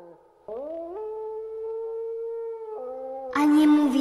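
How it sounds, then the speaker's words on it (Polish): A long, wavering howl rises and holds in a snowy forest, sustained and fairly close, then gives way to a sudden louder burst of noisy sound at the end. "Tam coś wyje."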